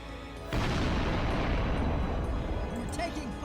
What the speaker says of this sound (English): That's a torpedo.